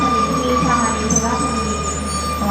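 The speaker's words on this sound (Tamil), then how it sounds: "இந்த பெரிய ட்ரெயின், பெரிய ட்ரெயின், பாம்பு மாதிரி பெரிய ட்ரெயின் பாருங்க." A long train on the Thailand to Malaysia line rolls past close by as a steady, continuous rumble with faint squealing wheels, holding even throughout.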